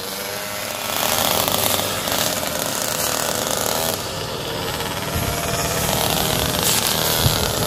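Polini 911 6.2hp mini motorbikes race along a street, their small engines buzzing loudly and continuously, revving up and down as they chase each other.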